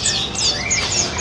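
Several caged songbirds at a bird seller's kiosk in Indonesia chirp and tweet in quick, overlapping high calls, close and fairly loud, with no talking.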